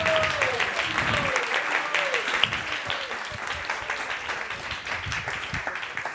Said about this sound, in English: So a huge round of applause for them.